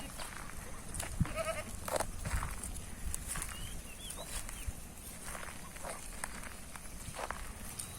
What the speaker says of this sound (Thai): เริ่มอิ่มกันแล้วทั้งวัวทั้งแพะทั้งแกะนะคะ